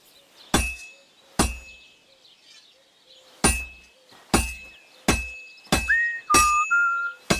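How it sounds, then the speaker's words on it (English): A hammer striking a sword on an anvil in Kingdom Come: Deliverance 2, with about nine loud, sharp metallic clangs at an uneven pace, each ringing briefly with no talk. "Now take the hammer and try hitting it a few times."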